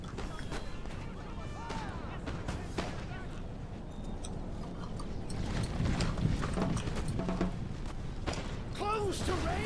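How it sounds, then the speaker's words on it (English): Musket volleys crack and pop from a line battle in Napoleon: Total War, irregular scattered shots of varying distance over a busy battlefield din, with someone talking over them. "A couple of shots going off from the back there."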